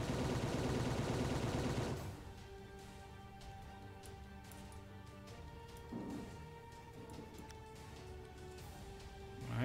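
Imperial Navy warship guns fire in the naval strategy game Final Theory: a loud roaring volley for the first two seconds, then a quieter rumbling aftermath with a smaller distant boom partway through and another swell at the end.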